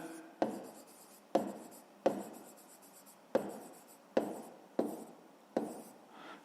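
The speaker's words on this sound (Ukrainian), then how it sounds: "Записуємо тоді, отже, записуємо дріб." A pen writes a fraction on paper, quiet scratchy strokes repeating in a steady rhythm of short bursts, close up, with no voice.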